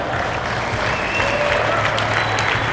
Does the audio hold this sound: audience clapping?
yes